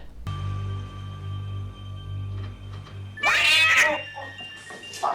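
A cat in a boathouse scene of the 1986 film April Fool's Day gives a loud, sharp meow near the end, after several seconds of low droning ambient hum and faint tones.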